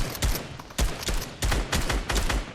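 Video game gunfire rattling out in repeated bursts and volleys, sharp loud shots spaced through the stretch with no speech over them.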